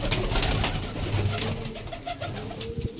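Punjabi pigeons kept for sale coo close by, with low, throaty calls repeating over a busy bed of flapping and shuffling.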